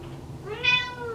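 A house cat gives a single rising meow, fairly close and clear over a quiet room background.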